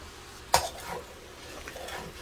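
A utensil scrapes and clinks in a pan while shrimp fried rice with soy sauce is stirred, starting with a sharp metallic knock, then softer scraping over a faint sizzle.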